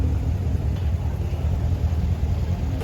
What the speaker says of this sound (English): It's the Brabus S63 AMG, as you can see. Oh, the roar.